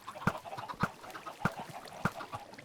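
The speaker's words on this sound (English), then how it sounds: "now this will produce us some chickens" Chickens in Minecraft cluck in short repeated bursts, several clucks spaced across a couple of seconds, close and clear with no talking.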